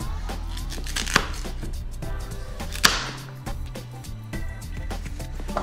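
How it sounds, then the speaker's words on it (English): Peeled sweet potatoes being cut into chip-sized pieces with a knife. A few sharp, isolated strikes sound over a steady background of music. "So I'm going to peel them and make them into chip-sized portions."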